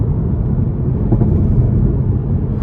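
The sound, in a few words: 2021 Toyota Supra 3.0 engine accelerating after downshift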